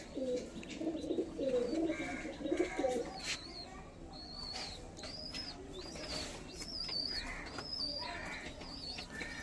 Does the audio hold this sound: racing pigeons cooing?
yes